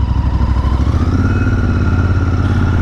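A motorcycle used for local riding idles loudly and close, its engine giving a steady, even throbbing beat with a faint whine above, alone with no voices.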